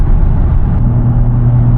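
A Porsche Cayenne engine drones loudly and steadily from inside the car, a low rumbling hum with a slight shift in tone partway through, with no talk.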